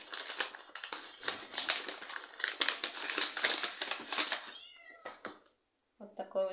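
A small plastic bag crinkles and rustles close up while a succulent plant is unpacked, several seconds of busy crackling that stops before a couple of brief high tonal calls.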